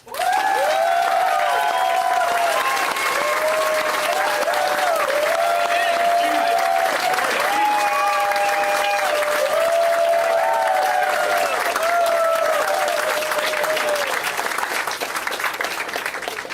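Sustained, dense clapping from a large rally crowd for JD Vance at an Ohio get-out-the-vote event, steady and loud throughout with a few scattered cheers and voices mixed in.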